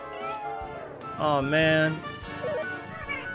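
Saber cub monsters in the Dragon Quest XI video game give a couple of loud, drawn-out cat-like meows, with a voice talking around them.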